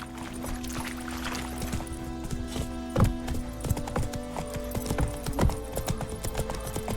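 Roach the horse moves in The Witcher 3, with hoof clip-clops and thuds sounding irregularly over a low ambient game soundtrack and no clear speech.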